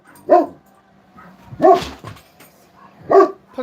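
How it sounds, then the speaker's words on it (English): Dogs bark indoors: three loud, sharp barks come in a slow, evenly spaced rhythm with short quiet gaps between them, close by. "Why are they barking?"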